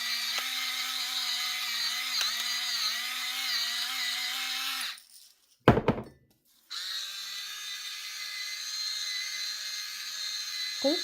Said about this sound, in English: I think my salt grinder might be a little clogged.